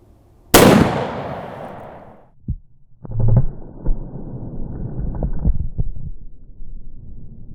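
A 50 cal CVA Accura muzzleloader fires a Smackdown Carnivore bullet: one loud, sharp blast with a long decaying rumble. Scattered clicks and handling noises follow, with no talk.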